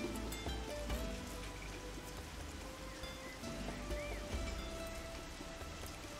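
Steady rainfall in the video game Wildlife Park 3 patters on surfaces, a continuous soft hiss of drops with scattered small splashes and no talking.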